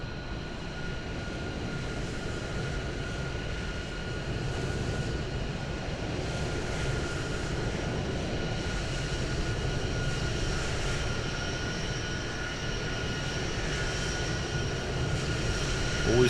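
A Ryanair airliner in Microsoft Flight Simulator gives off a continuous jet engine roar, broad and steady with a faint high whine on top, holding at an even level throughout with no talk.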